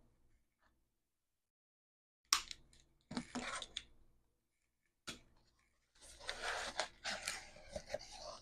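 Sharp craft scissors snip and slice in a handful of crisp, close bursts separated by near silence, ending with a longer run of rustling cuts.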